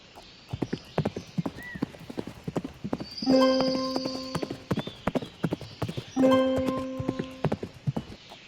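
Steady clip-clop of horse hooves trotting in a rhythmic patter in a video game, interrupted twice by a horse's whinny, with a faint game-style ambience behind.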